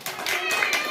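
Children clap their hands during a classroom general-knowledge quiz, a short burst of several sharp claps that lasts under a second.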